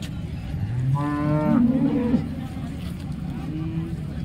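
Cattle lowing at a crowded livestock market, one long drawn-out moo rising and falling near the middle of the clip, close and clear over a steady murmur of background voices and market noise.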